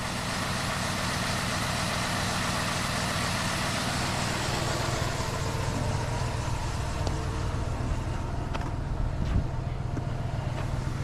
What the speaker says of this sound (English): It looks like I have an exhaust leak somewhere.